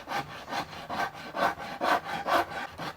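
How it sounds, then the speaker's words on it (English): A Shinto rasp pulls across the mahogany body of a handmade electric guitar, giving close rhythmic scraping strokes, about six even passes in quick succession, with no talking. "The Shinto works great for removing a bunch of material all at one time."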